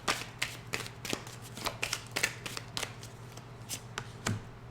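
Oracle cards from the Symboles de Vie deck riffled and shuffled by hand in a quiet room, a run of crisp papery flicks and soft slaps in an uneven rhythm, close and moderately quiet with a low steady hum beneath.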